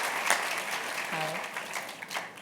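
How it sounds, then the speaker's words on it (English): Quiet applause from an audience at a medical and dental school graduation class day, a soft, scattered patter of clapping with a brief voice over it. "So a clap for being so brave, Nikki."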